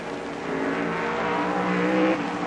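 A 1950s Formula 1 racing car flashes past crowded stands at around 110 miles an hour, its engine a sustained rising roar of moderate loudness with no break, heard alone.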